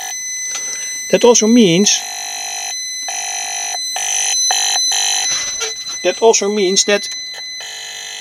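Electronic tone from a hand-tested transistor circuit as a finger touches the transistor base, heard as steady high alarm-like pulsing that runs through most of the stretch, with someone talking over parts of it.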